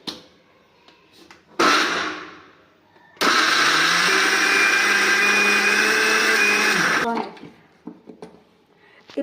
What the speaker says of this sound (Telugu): సో ఇప్పుడు మిక్సీకి అనేది వేసుకుంటున్నాను.